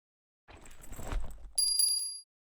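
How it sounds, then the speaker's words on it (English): A small cat's bell in the game Devil's Hideout, rustled then jingled in a short bright tinkling burst that rings close and clear before cutting off. "I've snagged the cat's bell."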